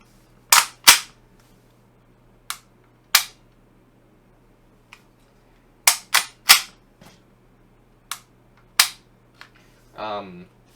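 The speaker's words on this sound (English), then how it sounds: "So it's a very long trigger pull, very long reset." A KWA MP9 airsoft gun gives a series of sharp, close mechanical clicks as the trigger is pulled and reset, spaced irregularly in pairs and singles against quiet, ending with a brief rattling handling noise.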